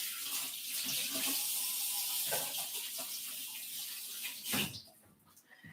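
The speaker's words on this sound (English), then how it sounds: "let's go wash our hands." Water running steadily from a tap into a sink during handwashing, a continuous close splashing hiss that briefly changes and drops near the end.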